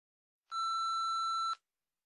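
A single steady electronic answering machine beep, clean and tonal, sounds alone for about one second before silence.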